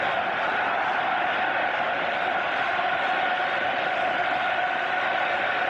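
Steady, dense roar of a 30,000-strong football stadium crowd at a 1997 France versus Brazil match, a continuous broad murmur with no distinct cheers or chants standing out.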